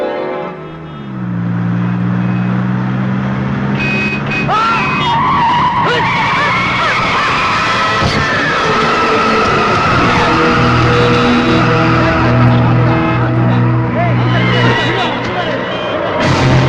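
In a scene from the Malayalam comedy film Darling Darling, a car skids on a road junction and strikes an elderly woman. Loud, sustained tires squeal and engine roar sweep through nearly the whole stretch, with voices mixed in.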